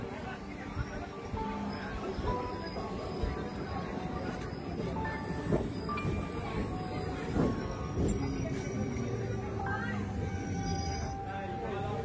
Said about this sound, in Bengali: আপনারা দেখতেই পাচ্ছেন আমাদের ট্রেন পলতা স্টেশনে পৌঁছে গেছে